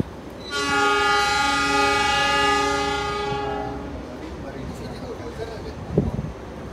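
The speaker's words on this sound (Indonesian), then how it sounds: "Jalur 3 diberangkatkan kembali kereta api Tegal Bahari dengan tujuan akhir stasiun Tegal." The Tegal Bahari train sounds a loud, sustained horn for about three seconds as it departs the station, followed by rumbling rail noise and a sharp clank, with voices and platform chatter around.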